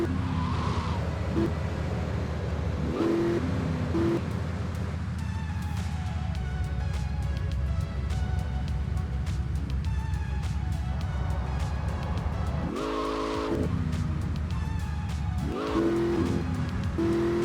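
Computer-controlled car traffic streaming past in a GTA game, with continuous engine drone, passing vehicles swelling and fading, and occasional tire squeals and revving, loud and steady with no talk.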